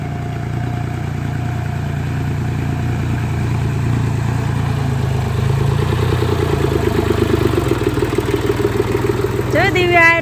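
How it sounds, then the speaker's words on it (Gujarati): A tractor pulling a trolley loaded with manure approaches with a steady diesel chug that grows slightly louder, while people talk over it. "જો સામેથી આવે છે ટ્રેક્ટર મસ્ત મજાનું"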